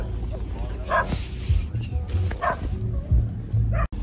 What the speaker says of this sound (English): is saying hi to the dog.